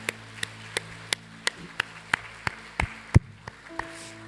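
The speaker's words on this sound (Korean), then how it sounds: "우리 감사의 영광의 박수 다 같이 올려드립시다" A church congregation at a special evening revival service claps in a steady, even rhythm, a dozen sharp claps roughly three per second, moderately close over a faint low hum, with no talking.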